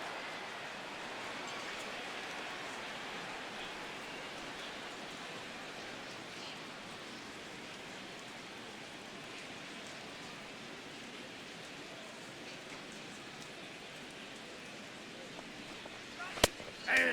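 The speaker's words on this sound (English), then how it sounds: "The rain, as we've mentioned, coming down fairly steadily here at game time." Steady rain falling during a baseball game in MLB The Show 16, a continuous even hiss throughout with a couple of sharp clicks near the end.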